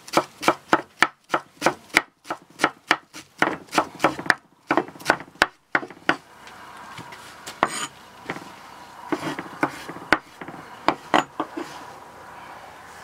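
A Pioneer Mr.Blade tactical kitchen knife chops cilantro on a board, with sharp, rhythmic knocks in quick bursts, a brief pause, then looser, softer cuts continuing alone.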